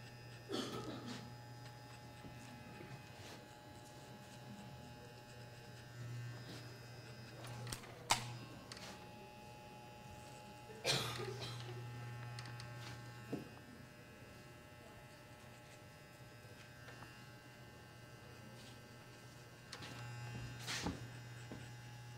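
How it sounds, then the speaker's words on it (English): An electric hair clipper hums steadily at low level through a barbershop classroom demonstration, with brief clicks and handling noises breaking in now and then. "So now we're gonna take this clipper down to a zero."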